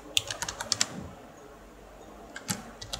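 Keys on a computer keyboard clack in a quick burst, pause, then tap again as a fastboot command for flashing recovery on an Asus Zenfone 5 is typed, close and crisp over a quiet room.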